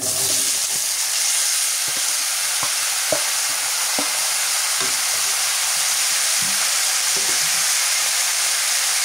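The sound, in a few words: vegetables frying and stirred in oil with onion and chili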